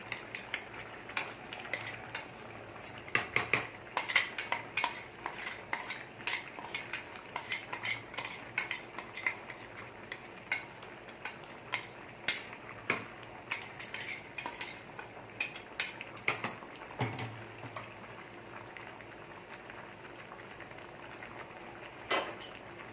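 Cabbage and chana dal kootu being stirred in a pot, with a steady run of spoon scrapes and clinks against the metal and a soft bubbling underneath, close and moderately loud, no voices.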